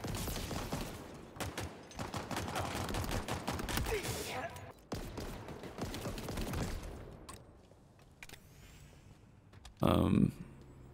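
A weapon in Halo Infinite fires in rapid bursts, a dense crackling fusillade that keeps up for several seconds, then thins out and ends with a louder, brief burst.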